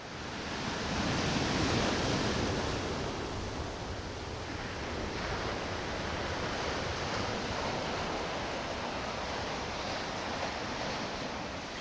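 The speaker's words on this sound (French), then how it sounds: "pendant que je regarde l'océan" Ocean waves heard from the water after a dive, a continuous broad wash of surf with wind noise, louder at first and then settling into a steady hiss, with no voices.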